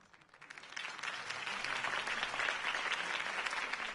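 Crowd applause after a mayoral campaign speech in the video game TellTale's Batman, swelling from quiet to a steady, dense wash of many clapping hands that sustains loudly to the end.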